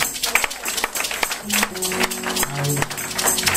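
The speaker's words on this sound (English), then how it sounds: "Come on, out of church to clap your hands" A church congregation claps their hands in quick, irregular bursts of sharp claps mixed with music tones, filling the room loud and close.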